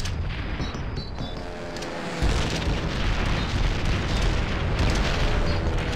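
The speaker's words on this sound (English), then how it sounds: "Toss a frag grenade through it." Frag grenade blast in Call of Duty: World at War, a heavy booming explosion partway through over continuous rumbling battlefield noise, loud and sustained with a low roar afterward.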